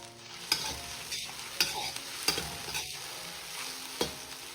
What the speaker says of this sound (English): Fry the onions until golden brown. Stir from time to time.